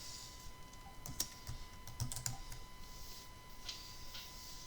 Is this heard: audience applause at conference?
no